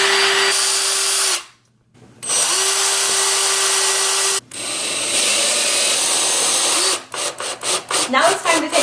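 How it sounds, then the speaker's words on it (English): A power drill bores a pilot hole in wood for screws, whirring in two sustained runs with a short pause between them, then a voice starts talking over scraping sounds. "I'm going to drill a pilot hole so that the screws go in and don't split the front"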